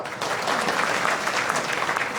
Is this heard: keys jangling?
no